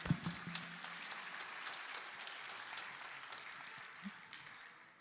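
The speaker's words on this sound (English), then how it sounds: "Let's give them one more nice big round of applause." An outdoor audience at a bluegrass gathering applauding a band after its set, a faint, steady wash of clapping that fades out gradually toward the end.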